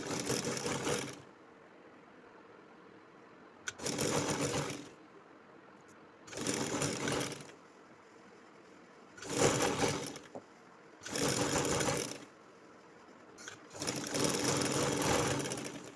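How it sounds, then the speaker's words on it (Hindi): A sewing machine stitches a flared panel kurti in six separate runs of steady mechanical whirring, each a second or two long, with quiet pauses between them, close and clear. "अब यहाँ से आगे हम सिलाई थोड़ा कम कर देंगे"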